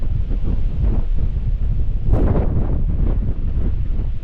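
Strong wind on the Cape Wrath Trail in Scotland roars and buffets the microphone in a constant low rumble, with a louder gust partway through.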